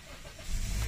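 An automatic car's engine cranks and catches during a diagnostic check, rising from a quiet idle into a loud, low rumble over the final half second.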